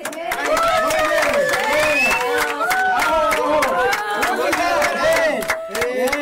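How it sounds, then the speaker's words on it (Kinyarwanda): A crowd at a World AIDS Day gathering applauds a leader with loud, sustained clapping mixed with chanting and ululating voices throughout. "Mureke umuyobozi tumwongera andi mashyi nk'ay'inshuro ebyiri."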